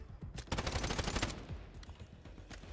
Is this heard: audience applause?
no